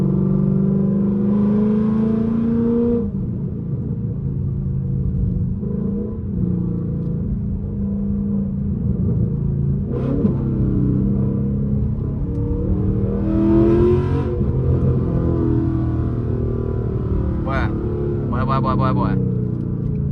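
A 2018 Ford Mustang GT driving on an open road in a winter storm, its engine rumbling and rising as it accelerates, heard from inside the car with someone talking over it.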